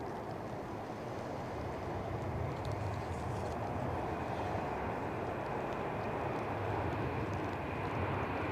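A Ryanair jet airliner takes off in stormy weather, a steady, loud broadband roar of engines holding evenly throughout with no voices.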